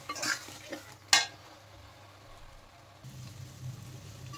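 Tomato, chili and cumin paste masala being sautéed for a Bengali chicken curry, a few sharp spatula scrapes and clinks near the start followed by a low, quiet sizzle that thickens toward the end.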